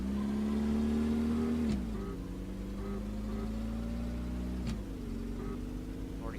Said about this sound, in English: So, second gear takeoff.